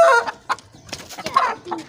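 A village hen clucks in a few short bursts, fairly close, with brief pauses between the calls and no talking over them.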